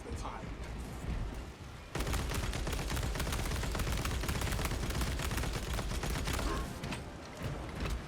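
Rapid bursts of automatic gunfire from the player's weapon in a Warhammer 40,000 Space Marine-style shooter, loud and nearly continuous for several seconds, with occasional voice in the background and mechanical clatter underneath.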